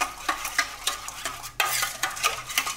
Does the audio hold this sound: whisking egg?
yes